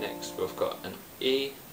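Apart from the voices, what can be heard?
No everyday noises stand out.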